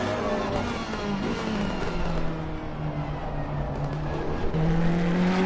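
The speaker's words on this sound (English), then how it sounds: "And the V8 turbo of the Ferrari" A Ferrari race car with a turbocharged V8 roars past the pit wall at Donnington Park, its engine note loud and sustained with tonal pitch shifts as it sweeps by close.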